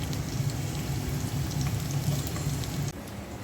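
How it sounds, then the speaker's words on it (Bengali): Chopped onions frying in hot oil in a home kitchen, giving a steady, close, moderately quiet sizzle with a soft crackle throughout and a brief dip near the end. "তেলটা একটু গরম হোক, পেঁয়াজ কুচি দিয়ে দিচ্ছি।"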